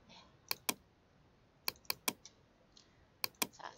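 Keys tapped on a computer keyboard in a quiet room: a few sharp clicks in small clusters with pauses between, ending in a final couple of presses, close and fairly soft.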